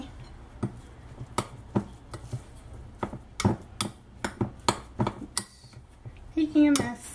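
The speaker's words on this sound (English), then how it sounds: "mixing as I go, just so I can see when I have enough in here" Keto pancake batter mixed in a bowl in a home kitchen, with a string of sharp clinks and taps of a utensil against the bowl, irregular and fairly close, with quiet background noise.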